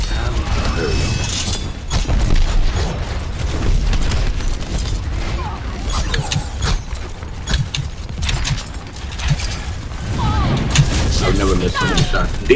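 Gunfire in the shooter game Overwatch, played as Genji in co-op: repeated sharp shots and impacts crackle throughout amid mechanical clatter, with players talking over the action.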